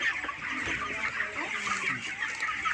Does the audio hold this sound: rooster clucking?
yes